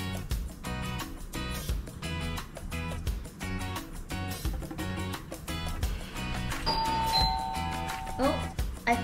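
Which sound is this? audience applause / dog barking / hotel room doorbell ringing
hotel room doorbell ringing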